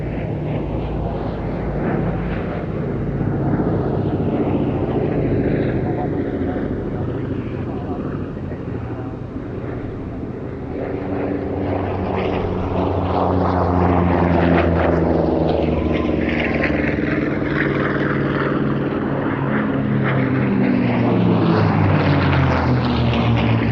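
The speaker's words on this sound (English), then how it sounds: "Sally B in this final pass" Vintage B-17 bomber flying a final airshow pass with one engine simulating damage, its piston propeller drone swelling as it comes nearer and then receding, with a public-address commentator's voice over the engine noise.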